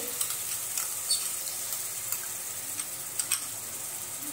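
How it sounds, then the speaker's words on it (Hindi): Spices and curd being sautéed in a pan for dahi aloo matar make a soft, steady sizzle, with light stirring scrapes and a few small clicks on top and no talking. "आणि दही आपण 2 मिनिटं याच्यामध्ये परतून घेऊया"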